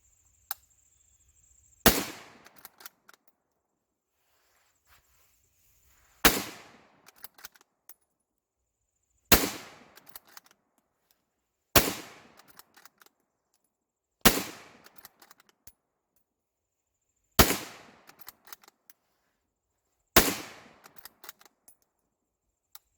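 Seven sharp, loud rifle shots from a Ruger American Ranch in .300 Blackout ring out outdoors, spaced a few seconds apart. Each crack leaves a short ringing tail, with faint clicks of the action in the gaps.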